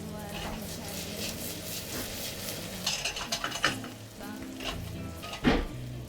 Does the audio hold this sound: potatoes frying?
yes